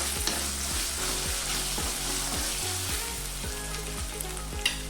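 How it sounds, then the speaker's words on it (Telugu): Ginger garlic paste sizzles steadily in a pan for chicken handi, a loud, continuous close frying hiss with stirring scrapes throughout. "అల్లం వెల్లుల్లి పేస్ట్ పచ్చివాసన పోయేంత వరకు"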